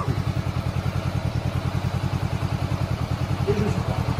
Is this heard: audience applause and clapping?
no